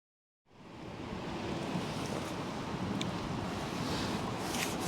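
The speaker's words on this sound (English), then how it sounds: "We've got a massive head-on wind, lots of white surf." Strong head-on wind buffets the microphone at a harbour with white surf, a loud steady roar that begins abruptly after a moment of silence and holds throughout.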